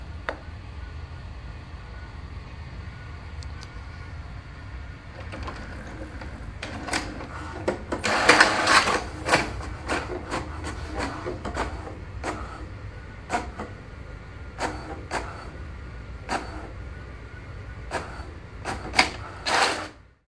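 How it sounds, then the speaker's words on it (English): An HP Deskjet 3700 series inkjet printer printing an information page, with a steady low mechanical hum beneath a series of short clicking and rattling paper-feed bursts, one louder cluster near the middle, all close and alone. "This is a printer information page that was printed when we press on the info button on the control panel of the Deskjet 3700 series."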